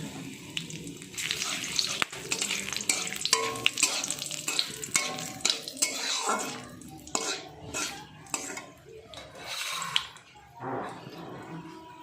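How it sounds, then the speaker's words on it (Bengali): Cinnamon, cardamom, cloves, peppercorns and bay leaves hit hot oil for mutton-fat ghugni, crackling over clinking utensils and pan clatter, with intermittent scraping and some quiet background sounds. "তেলটা কিন্তু গরম হয়ে গেছে এবার আমি দারুচিনি দুটো এলাচ চারটে লবঙ্গ আর দুটো গোলমরিচ দিয়ে দিলাম তেলের ওপরে"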